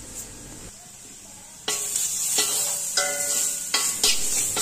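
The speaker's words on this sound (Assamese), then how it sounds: "আৰু অলপ সময় মই এইখিনি লৰাই দিছোঁ।" Lentils and turmeric being stirred and fried in a brass kadai, a steady sizzle broken by repeated scraping strokes of the spoon, close and fairly loud, with no talking.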